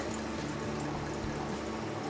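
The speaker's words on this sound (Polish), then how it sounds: "I nalewamy wino." Wine poured from a bottle into a wine glass, a quiet, steady trickling splash lasting a couple of seconds with no voices.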